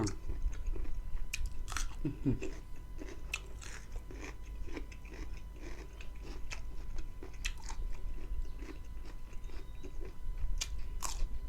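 Crunchy biting and chewing of spicy Thai pounded squid salad with squid tentacles, close and steady, with sharp crisp bites scattered throughout and no talking.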